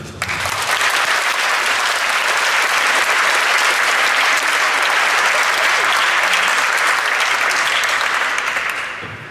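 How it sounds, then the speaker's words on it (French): Sustained audience applause at a peace festival held at the Grande Pagode de Vincennes in Paris, a dense, steady wash of clapping from a large crowd lasting about nine seconds before tapering off. "on peut effectivement l'applaudir."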